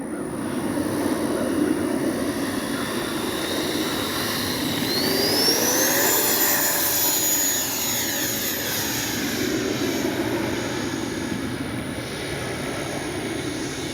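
Freewing 64mm BAC Lightning RC jet on its maiden flight, a steady loud ducted-fan whine and roar that sweeps upward in pitch as it passes overhead, then holds a continuous high-pitched drone.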